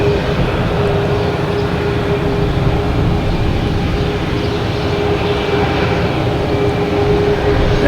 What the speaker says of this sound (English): A319 winding up on 22 right.